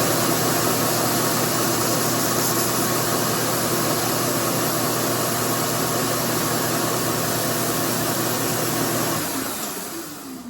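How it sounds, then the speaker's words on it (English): A powered sander shapes a keyway for an EGO snowblower drive wheel repair, a loud, steady broadband whir that runs without pause and then winds down near the end. "I'm lucky to have a powered sander here,"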